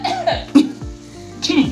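A few rough, close coughs from people who have eaten noodles with very hot Cameroon pepper, short bursts with breathy gaps between them.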